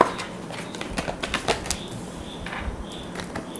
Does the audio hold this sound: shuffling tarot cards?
yes